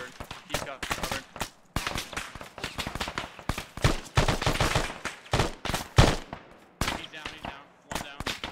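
Gunfire in a firefight during a simulated amphibious reconnaissance operation: close, sharp shots and rapid bursts crack in irregular clusters, loud and dense, with voices calling out between them.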